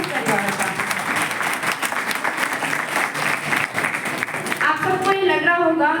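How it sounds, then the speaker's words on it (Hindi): Loud, sustained applause fills a Republic Day cultural programme at a college, a dense crowd clapping steadily before the clapping thins out near the end. "आप सब एक बार जोरदार तालियों से स्वागत करिए इस विद्यालय के समस्त परिवार का"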